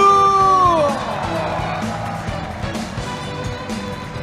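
A crowd cheering and applauding right after a countdown at a political party's third-anniversary celebration, a steady wash of whoops and shouts that begins loud and settles into a sustained roar.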